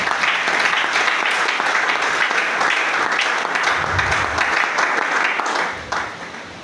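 Sustained applause from a church congregation fills the space, loud and dense throughout, with a few low voiced shouts mixed in before it starts to fade near the end.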